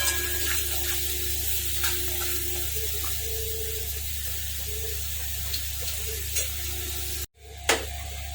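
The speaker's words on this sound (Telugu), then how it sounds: "ఈ మసాలాలు ఫ్రై అవుతున్నాయి కదండి." Coriander powder and garam masala fry in a pan with a steady, close hiss of sizzling and occasional light stirring scrapes, constant throughout with a brief break near the end.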